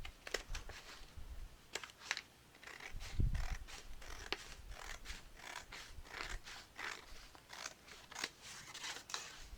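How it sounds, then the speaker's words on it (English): Scissors trim a sheet of craft paper for a Carta Bella snow-themed project, making a run of quick, close snips and rustles at low volume with no talking. "so I'm just going to trim this just a little bit."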